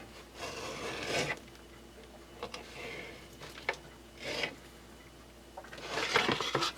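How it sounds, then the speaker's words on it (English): Knife slicing through a stack of tortillas into strips for an enchilada casserole, a few separate soft rasping cuts that come in short bursts with quiet pauses between them. "Instead, I'm just going to slice them"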